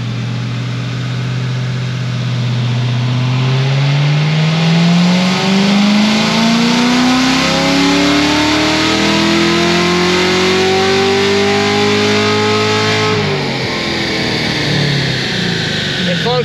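A Corvette C7 Z06 with headers and an air intake revs hard through a dyno pull, the engine note climbing steadily and loudly for about thirteen seconds before the throttle closes and it winds down.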